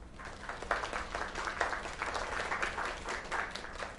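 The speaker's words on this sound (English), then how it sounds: "Another round of applause." Quiet, steady applause from a crowd in a South Park video game, a continuous patter of clapping with no voices over it.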